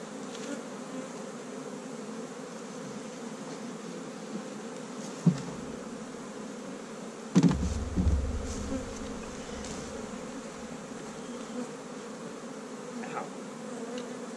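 Honey bees swarm and buzz densely around hives in an outdoor apiary while the hives are being moved, a steady close hum broken by a few sharp bumps and handling knocks.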